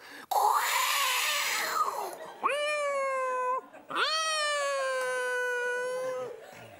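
Cats make a harsh, noisy hissing burst that lasts about two seconds. It is followed by two long, drawn-out meows that are loud and close, with a brief pause between them.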